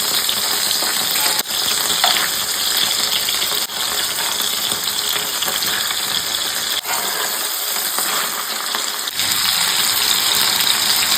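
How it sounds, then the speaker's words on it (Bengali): Village-style fish fritters wrapped in gourd leaves fry in an uncovered pan, giving a loud, steady crackling sizzle up close, with a few sharp knocks of a utensil scattered through. "এবার ঢাকা খোলা অবস্থায় ভাজা হবে কিন্তু।"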